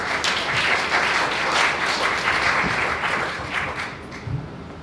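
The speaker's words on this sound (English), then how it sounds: "Please give a warm applause to our speakers and moderator" An audience at a talk on Southeast Asian art gives warm, sustained applause for the speakers and moderator, a dense clapping wash that slowly tapers off toward the end.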